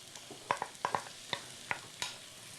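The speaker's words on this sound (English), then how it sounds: "a couple more tablespoons of the olive oil. I'm adding to that 1 medium onion. I love that sound." A medium onion hitting hot olive oil in a pan, with a soft sizzle punctuated by several sharp clinks and scrapes of stirring utensils at irregular intervals, close and clear.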